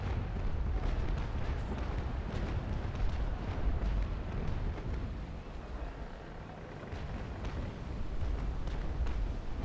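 Heavy rumbling cannon broadsides in the naval combat game Naval Action, rolling as a dense, continuous low roar of gunfire and explosions with no clear breaks, loud and sustained throughout.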